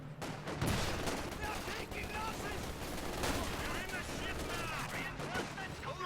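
Vickers machine gun and sniper fire in a Company of Heroes 2 battle, a dense, steady clatter of gunfire and impacts filling the whole stretch with no pauses.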